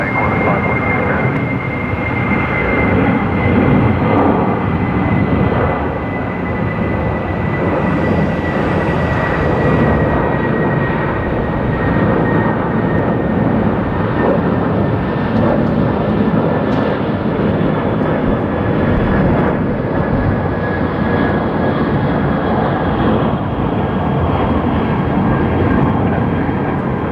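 Jet engines rumble steadily as an aircraft taxis at Brisbane Airport, a loud, continuous roar with a slowly falling whine, heard up close for the whole stretch.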